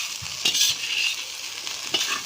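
Pasta tossed with ketchup fries over a low flame in a pan, giving a steady close sizzle broken by a few scraping stirs.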